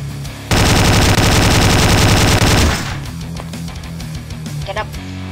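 Gunfire in the video game Slendytubbies: a loud, sustained burst of rapid automatic fire that cuts off abruptly after about two seconds, followed by quieter in-game noise and scattered clicks.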